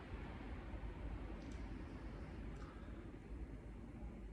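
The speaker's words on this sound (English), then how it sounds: "as you can hear, that's just a plane landing." Low, steady rumble of an airplane landing nearby, a broad continuous roar filling the background without distinct peaks, with no talk over it.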